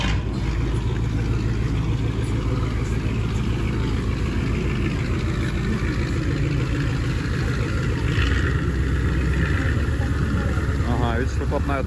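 A diesel boat engine idles steadily with its exhaust pipe discharging into the water, a continuous low rumble with gurgling, while people talk over it.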